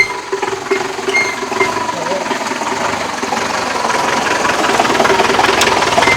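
A jeep loaded with Malabar tamarind idles with a steady low engine rumble that holds at a constant, fairly loud level for several seconds, with nobody speaking.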